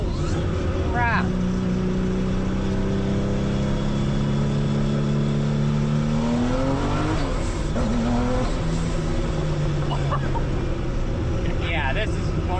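A Gunther Werks Porsche Turbo Mule engine revs hard and hits the rev limiter during wheel spin, a loud continuous roar whose pitch climbs and drops, with excited voices talking over it from inside the car.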